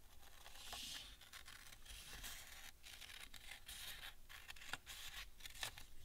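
Scissors cut through paper along a folded crease, close and quiet, a series of short crisp snips and rustles with irregular rhythm.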